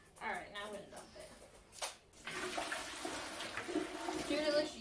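Water dumped into a kitchen sink after cooking, a steady loud splashing pour starting partway through and continuing to the end, with a person talking near the start.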